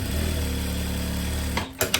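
A sewing machine stitches the side seams of a viscose dress, a steady close motor whir that stops near the end, followed by a couple of brief handling clicks.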